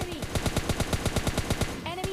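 Thompson submachine gun firing in the mobile game PUBG Lite, a rapid even burst of about fifteen sharp shots at a steady rhythm, loud and close, ending just before a short electronic game tone.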